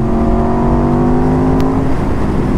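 Aprilia RSV4 RR superbike's V4 engine growls steadily and loud throughout, a sustained rumbling drone with a pitch that holds and then drops slightly near the end.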